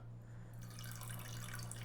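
Water pours steadily into a measuring cup, just under half a cup, to make pumpkin spice syrup. A soft, continuous splashing stream starts after a quiet moment and runs evenly to the end, close by, with no voices.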